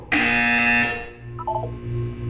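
A single loud, rasping buzzer tone from the video game Portal 2 sounds for nearly a second, then fades into a quieter electronic hum with a few soft blips.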